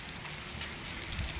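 Steady rain patters on Goodman air conditioner units outdoors, a dense, even hiss of drops with no pauses, moderately quiet and continuous.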